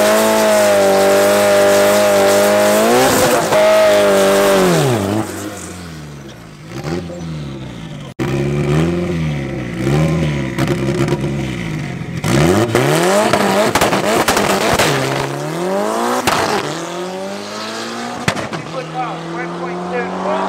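Race cars at a Tarlton International Raceway club event roar loudly, their engines climbing in pitch through repeated revs and runs, with a quieter gap in the middle before another loud pass.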